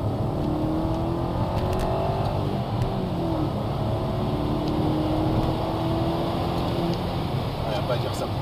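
A BMW 645Ci E63 coupé with a V8 engine accelerates, its steady engine drone rising in a continuous, loud pull heard from inside the car, with no pauses across the run.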